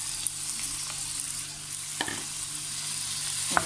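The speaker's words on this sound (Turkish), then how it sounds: "Evet, domatesini güzelce bir kavuruyoruz, mis gibi." Tomatoes sauté with onions and peppers in a pan, giving a steady close sizzle with a few sharp clicks as they are stirred, and no voice over it.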